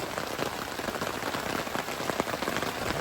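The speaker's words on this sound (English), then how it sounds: "It's raining." Steady, dense rain patters on a camping tent, a continuous close hiss of drops with no one speaking.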